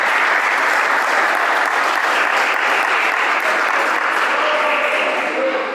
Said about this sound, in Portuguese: uma salva de palmas bem alegre